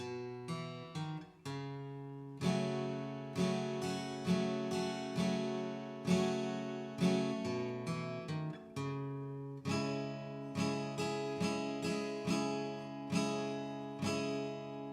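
Fingerpicked acoustic guitar intro, individual plucked notes ringing into one another in a steady, flowing rhythm, clear and close with no voices.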